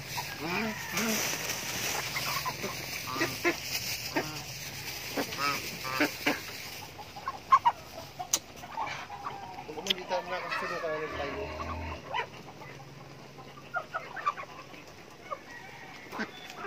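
Chickens on a small farm cluck and call in scattered bursts among other fowl honking nearby, with a voice speaking briefly in the background.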